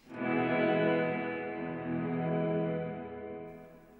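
A Strymon Cloudburst reverb pedal with pre-delay turned fully down, washing a sustained guitar chord into a dense, shimmering tail that swells and slowly fades alone.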